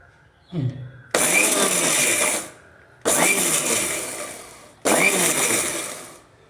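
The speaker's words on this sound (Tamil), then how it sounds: "இந்த சுத்தம் பண்ண வாழைப்பூ வந்து மிக்சியில் போட்டு வைப்பர் மோட்டில் போட்டு எடுத்தேன்" A mixer grinder chops cleaned banana flower in short pulsed bursts on wiper mode: three loud whirring runs of roughly one to two seconds each, separated by brief pauses, with a small clatter just before the first.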